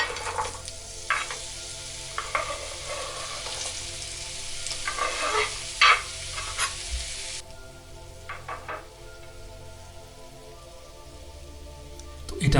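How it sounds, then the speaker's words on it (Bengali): Sweet potatoes sizzle in olive oil in a pan, a steady close crackle with a few stirring scrapes and clinks. The frying quiets partway through and keeps going softer, with no speech. "তো এটা আমি ফ্রাই করছি"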